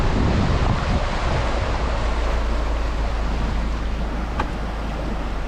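Floodwater rushes down a creek after heavy rain, a loud, continuous broadband roar with no pauses, close to the microphone and with no one talking.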